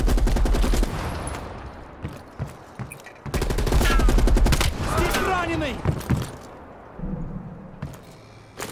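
Loud gunfire from the Call of Duty Black Ops Cold War video game, dense bursts of automatic fire with heavy booming shots, rising and falling through the stretch with a brief lull midway, mixed with faint game voices.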